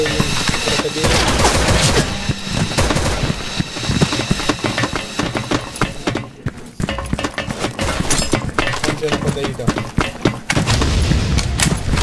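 Gunfire in the video game Special Force 2, dense bursts of automatic shots and sharp cracks that repeat throughout, loud and close, with a short lull near the middle.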